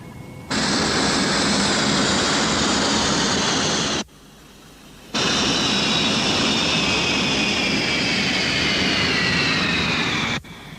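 A loud, steady aircraft engine roar from a craft coming in to land runs in two long unbroken stretches, with a brief quieter gap between them and no talk.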